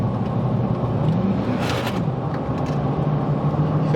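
A truck engine idling with a steady low rumble and whir, close and continuous, with a slight rise partway through and no talking.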